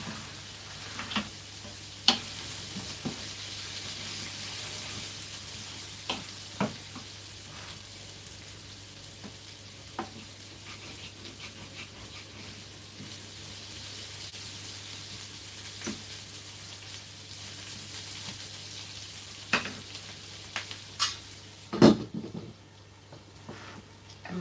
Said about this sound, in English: I'm gonna keep frying this.